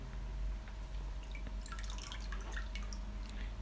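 Molasses water dripping off shaped simit dough as it drains: scattered small drips and light liquid ticks over a low steady hum, close and fairly quiet.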